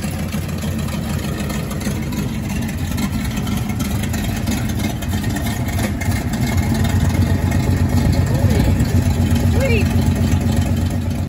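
A 1972 Cutlass engine cruising slowly around a yard: a loud, steady low rumble that swells slightly toward the end, close and continuous throughout.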